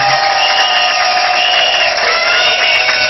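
A church congregation at a pastor's consecration service applauds together, a dense, loud, continuous clatter of many clapping hands with some cheering mixed in, close and sustained for the whole stretch.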